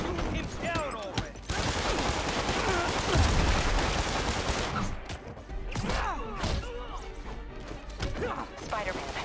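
Enemy gunfire in Marvel's Spider-Man, a chaotic fusillade of shots mixed with crashes and thuds in a busy fight, loud and continuous, with voices speaking over the action.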